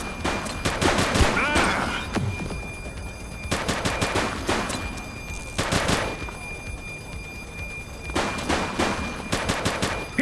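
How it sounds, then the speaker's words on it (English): Rapid automatic gunfire in the police video game The Precinct comes in several dense bursts, loud and close, separated by brief pauses. "He's shooting!"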